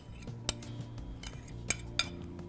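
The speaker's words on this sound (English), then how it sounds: "We're going to mix that around." Utensils tossing slaw in a bowl, soft close stirring punctuated by a few sharp clinks of metal against the dish, sparse and irregular with no talk.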